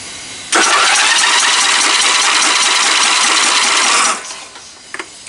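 A small engine on a Scotts lawn tractor roars steadily and loudly for about three and a half seconds, then cuts out abruptly, leaving a couple of faint clicks.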